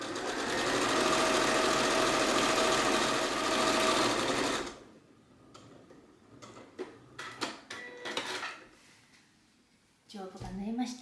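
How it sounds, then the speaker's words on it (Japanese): A sewing machine stitches a large fabric bag at high speed, a loud continuous whirring rattle for several seconds that then stops, followed by quieter handling clicks and brief bursts of running. "高速だとミシンの音がダラーってなるので喋ってる声が聞こえにくいですよね。"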